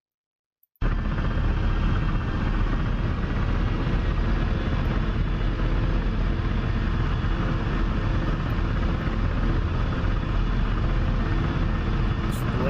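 A Ka-50 attack helicopter in the DCS combat flight simulator drones loudly and steadily. The dense rotor and engine roar starts after a brief silence and holds constant to the end.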